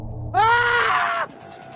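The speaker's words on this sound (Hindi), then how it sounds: "अचानक हमें ल्यूक की चीख सुनाई दी" A man lets out a loud, drawn-out anguished scream, a horror story sound effect, rising sharply and holding for about a second before cutting off abruptly, alone and close.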